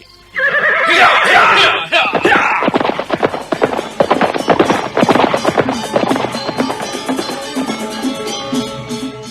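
A horse neighs loudly at the start, then hooves gallop away in a fast busy clatter with more whinnies, a radio drama sound effect for riders leaving a temple courtyard.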